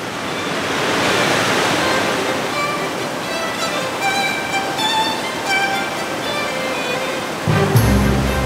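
A rushing valley stream, close to a waterfall, pours in a loud, steady roar, with a heavy thump near the end.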